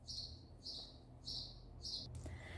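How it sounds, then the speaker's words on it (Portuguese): A pet bird chirps in a quiet room during crochet work, giving four short, bright, evenly spaced chirps that are faint and close, with no talking. "eu toquei o passarinho porque ele tá me desconcentrando"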